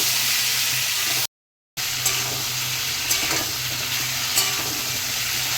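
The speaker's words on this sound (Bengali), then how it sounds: "কুমড়োগুলো একটু নাড়াচাড়া করতে থাকবো ভাজতে থাকবো" Pumpkin pieces fry in a pan and get stirred now and then, giving a steady, close sizzle with occasional scraping; the sound drops out briefly near the start.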